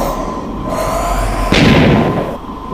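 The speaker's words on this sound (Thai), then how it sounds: "ระเบิดดินถล่ม" A deep, rumbling explosion bursts out midway over a droning Minecraft Mega Walls Deathmatch soundscape, swelling loudly for about a second before fading back to the background hum.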